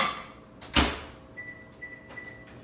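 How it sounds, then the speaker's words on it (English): A kitchen microwave oven heats a wood veneer strip wrapped in a damp paper towel on a plate: a sharp door thump, then a faint running hum with soft intermittent beep-like tones. "You just have to put it in the microwave for 20 seconds"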